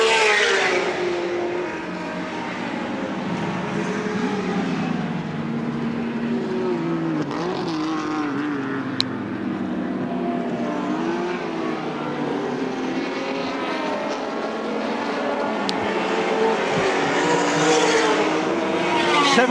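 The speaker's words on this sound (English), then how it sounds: "Coming up to lap now, Craig Harris in the Ford Capri V6." A Ford Capri V6 and other touring cars racing at Lakeside in the 1984 Australian Touring Car Championship: engines roar and shift pitch as cars pass, with a steady mid-distance drone and rising whines of passing vehicles.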